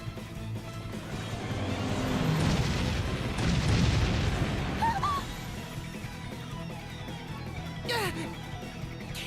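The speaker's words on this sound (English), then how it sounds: "Cannon fire?" Cannon fire in the video game Bravely Default, a run of heavy booms and rumbling blasts building to a dense peak midway, then easing off, with scattered sharp game effects toward the end and no speech.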